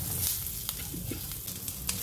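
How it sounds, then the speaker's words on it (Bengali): Melon seeds and cashews frying with ginger in a pan for a soya dish, a brief hissing sizzle with a few light stirring scrapes over a low background hum. "তো সব কিছুকে একটু নেড়ে ছেড়ে নেব।"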